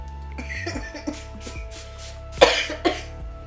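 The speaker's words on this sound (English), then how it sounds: "Excuse me for coughing, I have a cold." A couple of sharp coughs from someone with a cold near the end, loud and close, following a stretch of quiet background hum.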